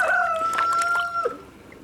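Chickens clucking and squawking close by as food is thrown to them, a few overlapping bird calls in short bursts, fading toward the end.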